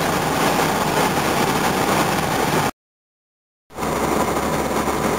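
Engine of an old Volvo heard from inside the cabin while driving, a loud, steady broadband drone and road rumble that cuts out abruptly for about a second before resuming at the same level, with no talking.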